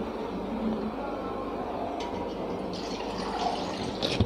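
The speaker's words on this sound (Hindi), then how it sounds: "इस जार में एक व्यक्ति के लिए हमें 3/4 गिलास पानी डालेंगे।" Water pours into a blender jar as a continuous rushing, splashing wash that lasts several seconds. No voices.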